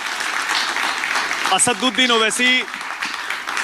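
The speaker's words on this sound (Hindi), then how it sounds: "तालियां बजाइए जोर से जरा।" An audience applauds to welcome AIMIM leader Asaduddin Owaisi, a broad sustained wash of clapping running throughout while an announcer's amplified voice speaks over it midway.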